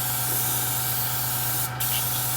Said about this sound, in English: Spray it again till we just get air out.